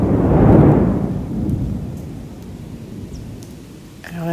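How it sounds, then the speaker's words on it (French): A loud low rumble of thunder in Kuala Lumpur swells at the start and slowly rolls away, fading over several seconds, with a faint tap near the end. "ce qui est assez incroyable, c'est qu'il y a tout le temps du tonnerre"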